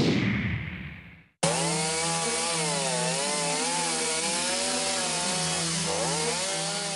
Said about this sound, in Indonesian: Menggunakan gergaji mesin, petugas gabungan dari BPBD, PMI Cianjur dan relawan berjibaku mengevakuasi pohon tumbang